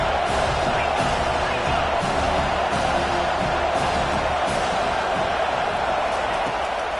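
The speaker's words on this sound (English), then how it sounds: "Here comes this home crowd as the defense tries to get off the field on 3rd down." A home crowd in an NCAA 25 college football video game roars steadily on a third-down defensive stand, a loud, continuous wash of stadium noise with faint rhythmic thumps beneath it.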